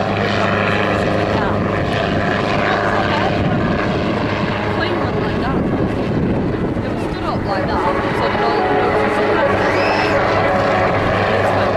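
A propeller aircraft at the Southport Air Show flies sideways transitions and pirouettes, giving a continuous loud droning hum with shifting pitch, heard under a commentator's public-address talk and some wind noise.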